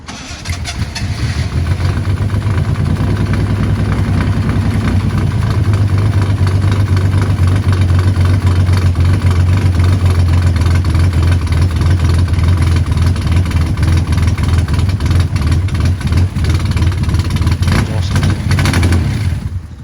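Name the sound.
Ford Capri engine first start idling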